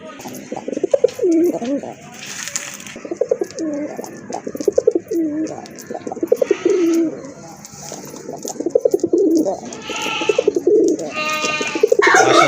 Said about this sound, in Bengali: আরেক জোড়া কবুতর এটা কিন্তু পিওর বাংলাদেশি অর্থাৎ দেশি কবুতর